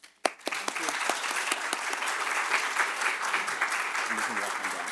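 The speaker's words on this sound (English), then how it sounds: "One more round of applause" A room full of people gives a warm round of applause for Olivia, sustained dense clapping after a sharp start, with a few voices murmuring underneath.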